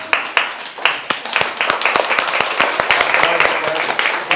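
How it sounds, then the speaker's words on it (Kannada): A group of people clapping hands at a gathering, a rapid run of sharp, close claps over a few seconds with voices talking alongside. "ಚಪ್ಪಾಳೆ ಹೊಡಿರಪ್ಪ"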